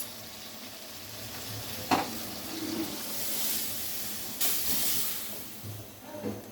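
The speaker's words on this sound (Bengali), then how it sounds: "এবার ঝোলের জন্য পরিমাণ মতো জল দিয়ে দিব।" Water poured into a pan of simmering katla fish curry with potato and cauliflower sets off a burst of hissing and sizzling steam, with clinks and stirring noises, at close range.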